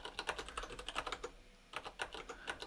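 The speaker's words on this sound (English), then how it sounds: "I'm like typing and trying to work out what's going on." Fast bursts of keystrokes on a computer keyboard, close and clear, with a short pause midway before another quick run of typing; no talking.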